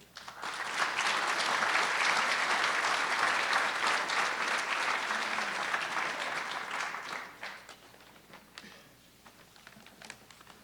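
Audience applause at a fall graduate recognition ceremony, a sustained dense clapping from a large crowd that holds steady for about seven seconds, then thins out into scattered claps as it dies away.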